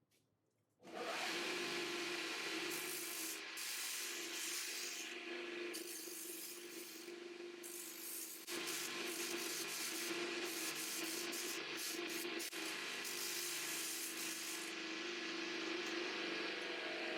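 Steel plates for a mobile gas forge stand are cut with a loud, steady abrasive whine that kicks in after a second and runs unbroken, dipping slightly in the middle before returning at full strength, with no talking.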